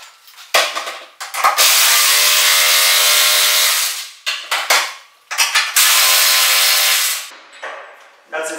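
Metal wrench and socket snugging 3/8 bolts through the floor of a DIY HayBoss big round hay feeder, heard as bursts of harsh metallic ratcheting and scraping, two long sustained stretches broken by short clanks and clicks, close and loud.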